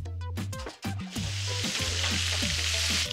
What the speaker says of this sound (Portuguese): o óleo já tá bem quente, ó, é só colocar ele aqui para dentro e fritar